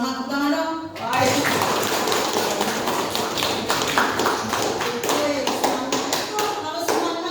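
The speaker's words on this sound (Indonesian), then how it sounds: "semangat tepuk tangan dong" A classroom of students claps hands together in a lively burst of rapid, sustained applause, preceded by a brief moment of teacher speech.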